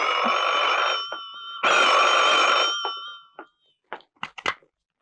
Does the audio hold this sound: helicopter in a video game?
no